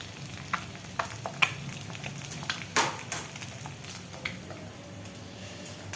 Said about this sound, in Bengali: তো আমি আরেকটা ভাজবো। তো আমি এখানে আরেকটা ডিম দিয়ে দিলাম।